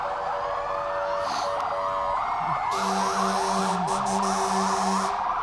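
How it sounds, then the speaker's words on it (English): Fire trucks, including an East Brookfield Forestry volunteer rig, sound wailing and yelping sirens in a Christmas parade of lights, with a low pulsing horn entering partway through, loud, layered and continuous. "They love blowing their horns in there and playing their sirens, don't they?"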